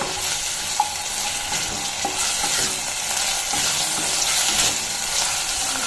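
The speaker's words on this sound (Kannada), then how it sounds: "ಆಯಿಲ್ ಹಾಕ್ಕೊಂಡು ಚೆನ್ನಾಗಿ ಹುರ್ಕೋಬೇಕು" Bitter gourd fries in oil in a pan, giving a steady, loud sizzle with occasional soft clicks of stirring and no talk.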